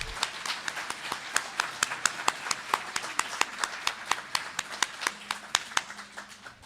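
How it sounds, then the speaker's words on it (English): Small audience clapping at an evening pro-independence event in Edmonton, with distinct, fairly regular hand claps that stay close and steady for the whole stretch rather than building into a roar, a faint voice murmuring underneath. "Big round of applause, everybody."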